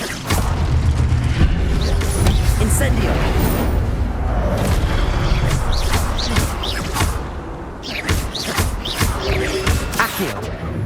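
Incendio fire spell cast during a Hogwarts Legacy battle on PS5, heavy booming bursts and whooshes layered over constant dense combat noise, with a sharper cluster of hits near the end.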